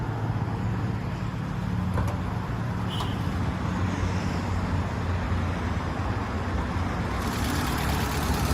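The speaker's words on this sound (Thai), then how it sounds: "ผมขออนุญาตสตาร์ทเครื่องด้วยเลยนะครับ ผมจะได้ฟังเสียงเครื่องนะครับว่าเพราะขนาดไหนนะครับ" A 2001 Toyota Soluna with a 1.5-litre petrol engine and automatic gearbox idles just after starting, a steady, even engine hum that runs unbroken and fairly loud, with no talking.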